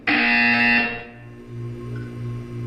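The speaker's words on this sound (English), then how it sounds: "You will hear a buzzer." A loud, harsh electronic buzzer blares for about a second inside a Portal video game test chamber, then cuts off, leaving a low steady hum that pulses softly.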